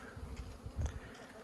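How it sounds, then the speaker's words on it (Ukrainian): Honey bees flying around an apiary hive in spring as young bees take orientation flights, a soft continuous buzzing with one bee passing close and louder for a moment. "у нас бджілки полетіли, молоді бджілки, які виходять, почали облітуватися"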